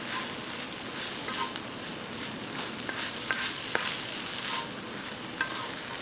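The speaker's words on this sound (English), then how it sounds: "give that a quick stir." SPAM sizzling and frying in a pan as toasted sesame seeds and chopped mint are stirred in, a steady crackling hiss with a few light utensil scrapes and taps, no voices.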